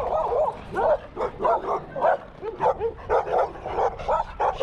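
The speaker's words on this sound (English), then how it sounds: "I've got a few dogs" Several dogs bark nearby in a rapid, uneven series of about a dozen loud woofs and yips, with a few whimpering notes and no talking.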